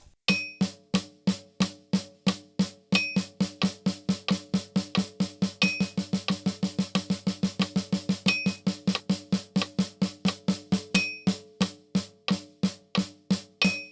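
Crisp snare drum strokes run in shifting rhythmic subdivisions, speeding up through the middle and slowing again, with a steady metronome click marking the pulse.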